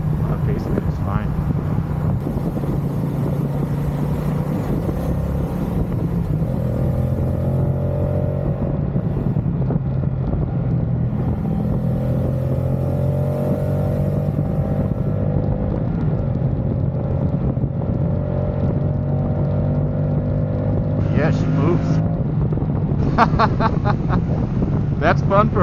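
A Moto Guzzi touring motorcycle riding at a demo day, its engine a steady low drone under constant wind rush, with rising and falling gear pulls, and people talking over it throughout.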